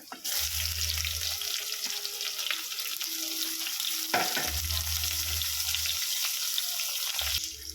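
Green chillies and onion fry in hot oil for a masala: a steady, bright sizzle runs throughout, with a few scraping stirs and a low hum rising and falling beneath it.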